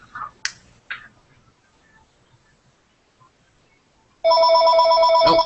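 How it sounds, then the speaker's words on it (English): A telephone bell rings loudly and steadily for just over a second near the end, after a few brief voice sounds and near silence. "Oh, phone's ringing."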